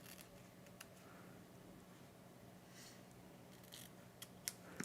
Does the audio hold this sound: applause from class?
no